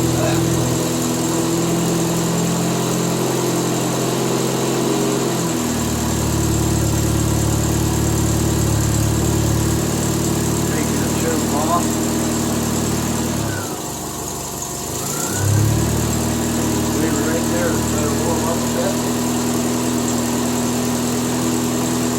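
A Triumph Spitfire engine with a newly replaced starter idles steadily at half choke, a continuous low rumble that dips briefly mid-way, then settles back into an even idle.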